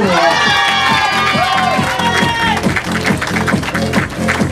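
Crowd at the 10 km road race in Les Sables d'Olonne cheering and applauding a finishing runner, with loud whoops and high children's shouts at first, then rhythmic clapping that continues to the end.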